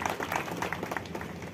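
A crowd at the grand opening of a cement dealership claps together in a short, loud burst of mixed hand claps, with some background noise beneath.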